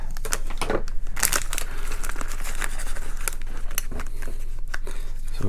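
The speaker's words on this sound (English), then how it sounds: "I'll go ahead and cut open both of them so that I can go ahead and just dump them out" Plastic bags of LEGO pieces being cut open with scissors and the bricks dumped out, giving loud close crinkling and snipping with a clattering rush of small plastic parts, continuous and busy, with no talking.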